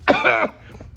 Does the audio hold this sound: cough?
yes